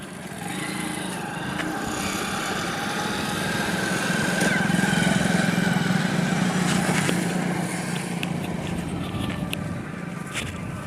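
A motorbike ridden by a woman on a road in Gopalganj runs steadily for about eleven seconds, a continuous buzzing engine drone that swells slightly mid-clip, with no talking.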